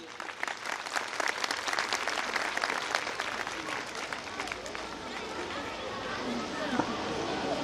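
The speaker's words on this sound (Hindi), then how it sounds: "प्लीज बच्चों की हौसला अफजाई के लिए क्लैपिंग कीजिए" Audience at a school annual function clapping for children, a steady dense wash of applause from a crowd with some chatter mixed in, sustained throughout without a clear break.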